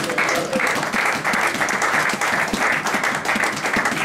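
Church congregation applauding steadily and loudly for the whole stretch, a dense crowd clapping with no pauses.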